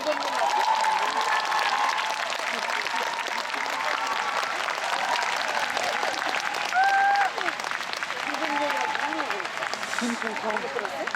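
Sustained applause from a large audience at a musical festival stage fills the whole stretch, dense and loud, with crowd murmur and a few cheers mixed in while an announcer speaks over it.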